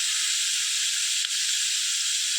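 Beans sautéing in a pan while making egg noodles, a steady bright sizzling hiss held continuously and close, with no talking.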